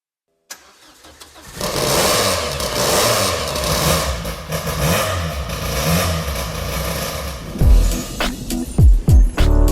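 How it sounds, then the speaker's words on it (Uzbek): A Daewoo Nexia race car with a tuned C20XI engine of about 220 hp starts up, then idles roughly and revs in loud bursts, ending in several sharp throttle blips up close. "Bu motorni ko'rgandan bir marta eshitib ko'rish afzal."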